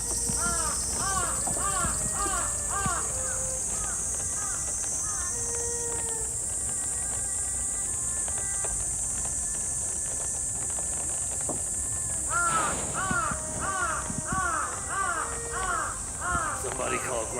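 Crows cawing in repeated bursts of harsh calls, a group at the start and another near the end, over steady background noise with a high insect-like whine.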